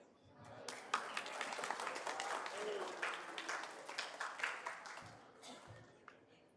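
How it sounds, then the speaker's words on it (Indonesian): An audience at an awards event bursts into applause, a dense, moderately distant clapping that swells and then tapers off after about six seconds, with faint voices underneath. "Beri tepuk tangan yang meriah untuk Alia Deniswara."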